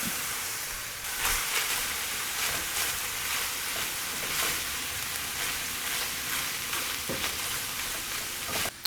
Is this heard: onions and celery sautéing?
yes